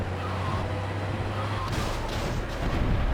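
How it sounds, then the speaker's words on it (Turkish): Explosions in the video game GTA Vice City Definitive Edition, rumbling blasts and a gunfire-like crackle over a low engine drone, dense and moderately loud with no clear pauses. "Patlama efektleri güzel olmuş"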